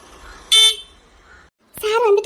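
A motorbike horn gives one short, loud honk at close range, then a quiet pause, followed by a person talking.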